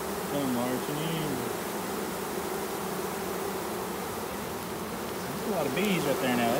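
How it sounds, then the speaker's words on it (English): A dense spring honeybee swarm in a wooded yard drones loudly and continuously, with individual bees buzzing close by and weaving in pitch. "There's a lot of bees right there now. That's a good swarm."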